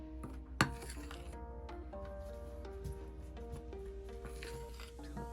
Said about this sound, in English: Just fold all the ingredients together.